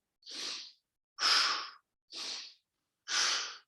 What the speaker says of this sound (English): I'm breathing a little loud so you can hear it.